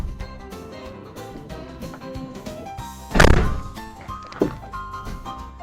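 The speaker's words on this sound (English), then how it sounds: "doors are going up and down effortlessly" Storage bay doors on a 2014 Prevost H3-45 coach moving and shutting, giving one loud heavy thunk near the middle and a second sharper knock soon after, over a steady low background hum.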